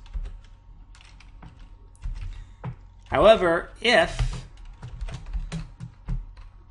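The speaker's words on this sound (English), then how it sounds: "I fat finger the keyboard here," Computer keyboard typing while editing Unity GUI code: light, scattered key clicks close to the microphone, heard in short runs around someone speaking briefly in the middle.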